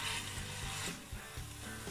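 Minced meat keema browning in a pan, with a continuous close sizzle and occasional clinks and scrapes of stirring, no talking.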